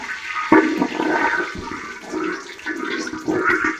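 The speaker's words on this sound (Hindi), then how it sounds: "जो है ना मैंने पानी ऐड कर दिया" Water is poured into a pot of hot oil and cardamom while zarda sweet rice is cooked, a splashing, gurgling rush that rises and falls for a few seconds without talk.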